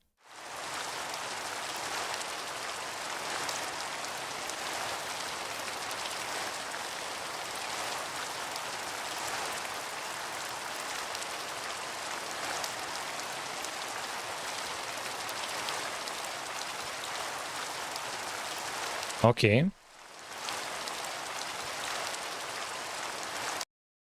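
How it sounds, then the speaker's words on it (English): Steady, loud rainfall in a C++ Minecraft clone game fills the whole stretch as an unbroken hiss, with a brief cut near the end before the downpour resumes. "we added sound for the rain."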